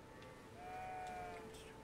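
A goat in the video game Elden Ring lets out one faint, drawn-out bleat against low background noise.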